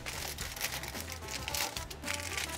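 Aluminium foil crinkled and handled in a home kitchen while preparing bowtie lasagne, a soft continuous rustling at close range for a couple of seconds with no talk.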